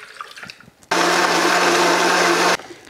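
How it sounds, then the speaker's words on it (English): A Vitamix blender whirs loudly for under two seconds, blending two oranges with half a cup of water, starting and stopping abruptly after a few faint kitchen clatters. "That can actually just go right into the Vitamix."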